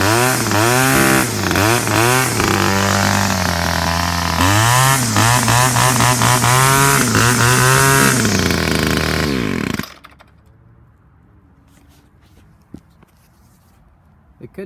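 A Homelite Trim N Edge two-stroke string trimmer runs loudly and close by, its engine pitch rising and falling with revving for about ten seconds before it cuts out, leaving quiet handling noises.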